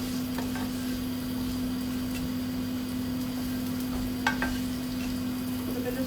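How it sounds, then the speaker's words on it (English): Potatoes browning with spices in a pan give a steady, moderate sizzle and fry hiss, with a few brief stirring scrapes partway through and no talking. "You brown the potatoes and let it get coated with the spices"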